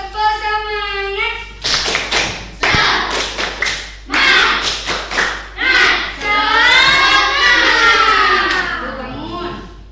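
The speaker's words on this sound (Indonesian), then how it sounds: "Yuk, tepuk semangat." A school class in a coding and AI lesson claps out the rhythmic 'tepuk semangat' pattern, sharp loud claps in quick bursts and pauses alternating with children's chanting voices.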